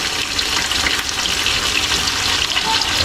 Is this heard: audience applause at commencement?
no